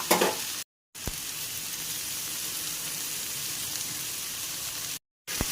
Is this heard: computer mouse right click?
no